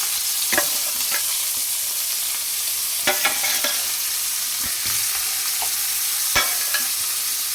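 Sardines frying in a pan, a steady close sizzle punctuated by sharp spatters and crackles, with no talking.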